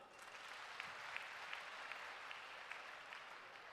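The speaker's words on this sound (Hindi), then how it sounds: "जरा ताली बजाओ।" Audience applause fills a religious gathering of Arya Samaj followers, a steady broad wash of many hands clapping at a distance, fairly faint and even throughout with a few sharper claps standing out.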